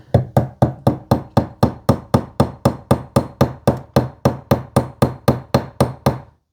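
About twenty-four sharp, evenly spaced strikes of a nylon hammer on a steel gun sight in a steady fast rhythm, close and loud, with no talking.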